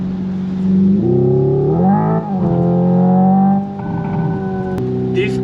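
A Hyundai Ioniq 5 N accelerating in its artificial transmission mode, with a loud, close synthetic engine tone that climbs in pitch, drops as if shifting gears, then climbs again and settles, with little or no talk.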